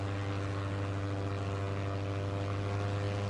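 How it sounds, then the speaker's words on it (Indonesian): Loud, steady drone of the overloaded Enola Gay, a B-29 propeller bomber, taking off at night down a runway over two miles long, a strong low engine hum with layered harmonics running unbroken throughout. "Pesawat yang kelebihan muatan itu perlahan terangkat ke langit malam menggunakan seluruh landasan pacu yang panjangnya lebih dari 2 mil."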